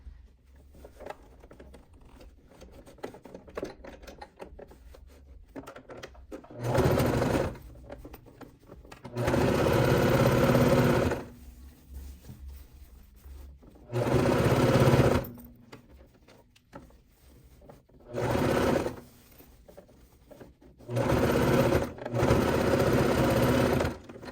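A sewing machine stitches a fabric piece along its lining side in six separate bursts of fast, whirring stitching, each lasting a second or two. Quiet pauses fall between the runs.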